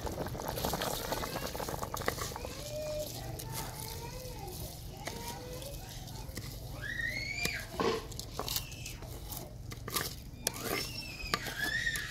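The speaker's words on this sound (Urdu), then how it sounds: "پانی ابل چکا چاول شامل کریں گے" Water boiling in a pot for a village-style aloo matar pulao, just before the rice goes in, bubbles and gurgles steadily at close range, with chirping birds and faint background voices.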